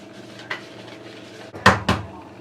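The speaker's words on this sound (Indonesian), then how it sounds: "Aduk dulu." A spoon stirs a dry mixture of wheat flour, cornstarch and salt in a bowl for risoles batter, making soft scraping and a few sharp clinks against the bowl near the end. The sound is close, with no talking.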